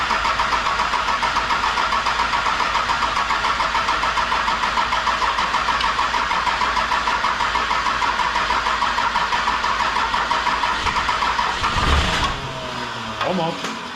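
Rebuilt 12V Cummins diesel engine running loud and steady close by, with a sharp change near the end as the engine is cut or throttled.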